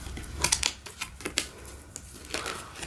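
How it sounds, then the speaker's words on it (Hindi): Tarot cards are drawn out of a deck, with a series of crisp, close papery snaps and rustles at an uneven rhythm, separated by quieter handling sounds. "Let me take out the random cards."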